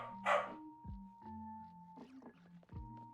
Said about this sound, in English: he'll be barking for a while